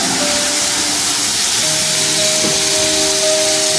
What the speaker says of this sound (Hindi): अब इसमें ये शुगर सिरप जो है ये थोड़ा थोड़ा करके शामिल करेंगे